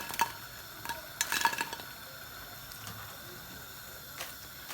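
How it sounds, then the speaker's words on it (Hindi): Soft sizzling of semolina and potato snacks frying in hot oil, with occasional clinks and scraping of a utensil, fairly quiet and close, no voices. "बस इसी तरह हमने सारे ही फ्राई कर लेने हैं।"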